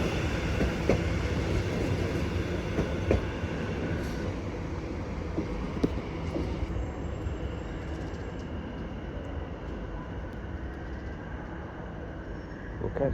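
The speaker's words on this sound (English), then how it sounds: "About to depart now is the delayed 16:10 Greater Anglia service to Colchester Town" Greater Anglia passenger train at Chelmsford station on the Great Eastern Main Line, heard as a steady rumbling roll with faint rail clatter and a thin high whine, continuous and moderately distant for the whole stretch.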